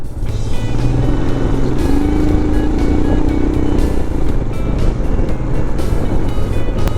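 A car rushes past on the Mumbai–Goa highway during the monsoon, its engine and road noise rising and fading as a steady, loud drone of nearby traffic continues throughout.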